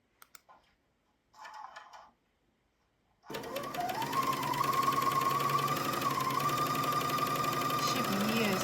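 After a few faint clicks and a brief rustle, an overlock sewing machine starts and runs continuously with a fast mechanical whir and rattle, rising slightly in pitch.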